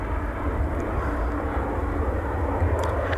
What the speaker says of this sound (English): 737-700, the NG variant.